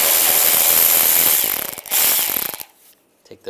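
A hand ratchet with a T20 socket clicks in fast, close repeated bursts while removing screws beneath the bumper of a 1999–2005 Volkswagen Jetta, then briefly stops, with a short pause and a few softer clicks at the end.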